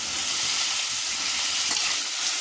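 Sliced onion and curry leaves sauté in hot oil in a pan for a beef stew, giving a steady, close, dense frying sizzle throughout with no voices.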